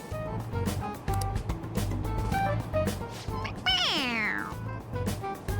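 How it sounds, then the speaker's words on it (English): A toy cat in Persona 5 Royal gives a bright rising-then-falling meow when its head is pressed, a single clear cry over game music and voices, with other talk around it. "It meows when you press on its head."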